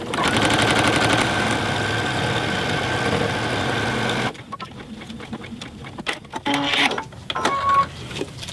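A serger sewing machine hums and chatters in a fast, steady stitching run while finishing a fabric mask strap, stopping abruptly partway through and leaving quiet handling clicks and rustles.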